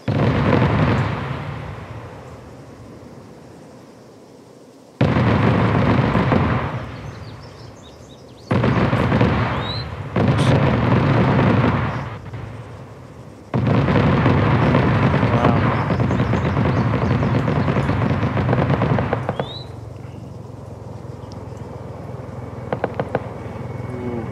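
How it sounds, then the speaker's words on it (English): Booming explosions and artillery-like blasts in Arma 3 during a British troops operation in Afghanistan, with a helicopter arriving; loud bursts come in several separate stretches, broken by quieter gaps. "Here comes the helicopter, here we go."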